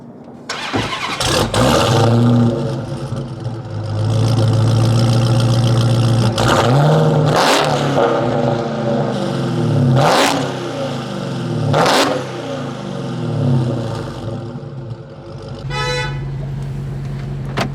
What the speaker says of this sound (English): I'm gonna give you guys a couple revs for the exhaust